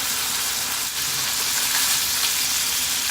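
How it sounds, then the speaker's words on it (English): Butter melts in a pan for sausage gravy, giving a steady, close sizzling hiss that holds evenly throughout, with no talking. "we're going to go ahead and put our 2 tablespoons of butter. Let that melt."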